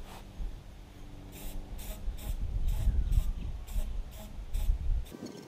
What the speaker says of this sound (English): Always try to keep the can upright when you're spraying